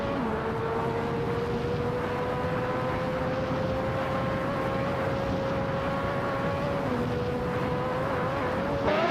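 Simulated 1988 McLaren MP4/4 race car engine in a racing video game, a steady, loud high-pitched whine that holds one pitch and rises near the end, continuous with no talk.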